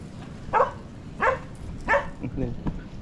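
A dog barks three times at a steady pace, fairly close, followed by a softer yelp, over low background noise.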